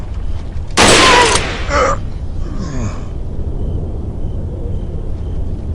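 Gunfire in the video game Resident Evil 4, a single loud shot burst followed by a shorter echoing report and fading in-game rumble, close and clear over a quiet background.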